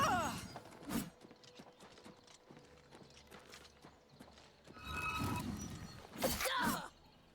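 Horse hooves clip-clop in the video game Oblivion Remastered, in short bursts near the start and again around the five to seven second mark, with a whinny-like burst and quieter game ambience between.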